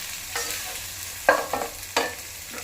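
Whole spices, bay leaf, cinnamon stick, cardamom and cloves, sauté in a pan for chicken kabsa, a soft steady sizzle broken by a few quick scraping stirs, close and fairly quiet.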